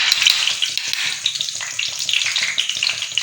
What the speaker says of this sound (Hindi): अब हमने इसमें 1 कप बेसन डाल देना है